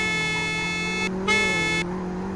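A video game car horn sounds in two steady blasts, about a second, then a short gap, then a shorter blast over a constant engine hum, loud and close.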